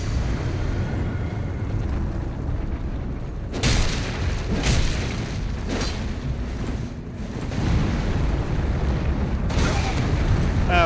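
Explosions boom during a fight at Castle Morne in Elden Ring: several heavy, close blasts hit in a burst, then another comes a few seconds later, all over a constant loud rumble of game noise.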